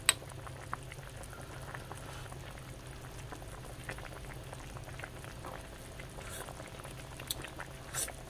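Sinigang fish soup with carp bubbling in a pot, a steady close boil with soft patter and popping running evenly throughout, no voices.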